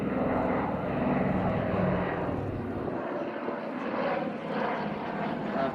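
A Douglas C-47 Dakota propeller aircraft drones through a flying display at an air festival, a steady distant engine roar that swells and eases slightly throughout.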